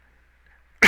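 One sudden close cough bursts out at the very end after near silence, performed by a player voicing a freed captive during a Dungeons & Dragons 5e tabletop session.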